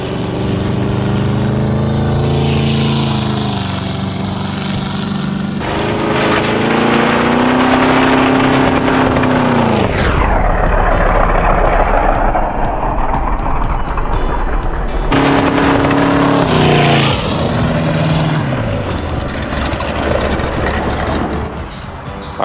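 A race boat runs on the water, recorded close from the water, its engine roaring loudly and continuously while the pitch rises and falls repeatedly as the throttle changes and the boat passes.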